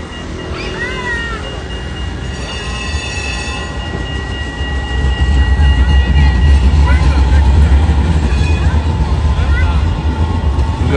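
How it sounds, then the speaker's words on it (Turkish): A Rotterdam tram rumbles past close by near a metro station, its low roar swelling as it passes, with squeals of metal wheels on the rails and faint chatter nearby. "Şu an tramvay geçecek."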